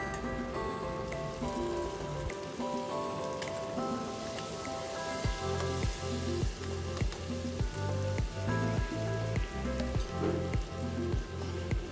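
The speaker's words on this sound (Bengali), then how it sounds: "আমি একটু মশলাটাকে কষিয়ে দিলাম" Spice masala with lentil bori, turmeric, salt and sugar sautéing in oil for katla fish curry, a steady close crackling sizzle running under rhythmic background music throughout.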